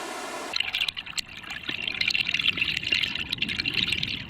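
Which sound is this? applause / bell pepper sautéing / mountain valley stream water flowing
mountain valley stream water flowing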